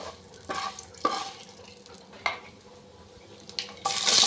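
Mustard and fenugreek seeds frying in hot oil for an egg and brinjal kulambu, a soft crackling sizzle broken by several sharp stirring and pan clatters, growing louder near the end.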